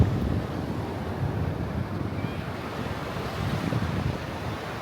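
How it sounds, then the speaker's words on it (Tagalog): Sea waves wash continuously onto an island beach in Pangasinan while strong wind buffets the microphone, making a steady, close roar with no voices. "can you hear the sound of the sea?"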